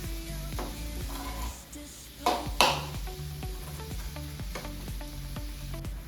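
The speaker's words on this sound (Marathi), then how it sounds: "आता टमाटर घालूया। आता छान परतून घेऊया।" Tomatoes sautéing in a pan for Vidarbha-style ukadpendi, a steady sizzle and frying hiss running throughout, with a couple of louder stirring scrapes partway through and faint pinging tones over it.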